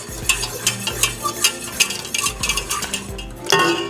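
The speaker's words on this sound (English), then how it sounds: "Then I'm going to use my whisk because I don't want it to be lumpy." A whisk beats a butter mixture in a bowl, giving rapid rhythmic scraping and clinking strokes in a steady pattern of close, fairly loud bursts with short pauses between them.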